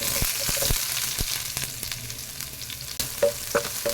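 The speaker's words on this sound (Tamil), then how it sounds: "வெங்காயத்தை நல்லா வதக்கி விட்டுறலாங்க." Sliced onion sizzles in hot oil with mustard seeds and curry leaves, steady frying hiss broken by repeated scraping knocks of a spoon stirring in the pan.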